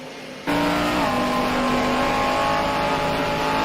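SRO race cars at Oulton Park circuit: a loud, steady engine roar cuts in abruptly after a half-second of quiet and holds strong, its pitch shifting slightly as the car drives on, with no voices.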